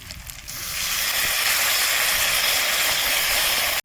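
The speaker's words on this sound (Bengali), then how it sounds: "এখন আমি সামান্য গরম পানি দেবো" Hot water poured into a frying pan of fish head and potato sets off a sudden loud, sustained hiss of steam that holds steady, then cuts off abruptly.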